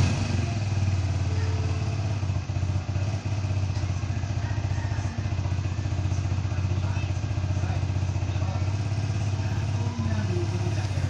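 A motorcycle engine idles close by with a steady, rumbling drone and a few faint clatters and thumps, while people talk quietly underneath.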